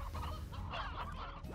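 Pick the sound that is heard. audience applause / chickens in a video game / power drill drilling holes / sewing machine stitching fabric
chickens in a video game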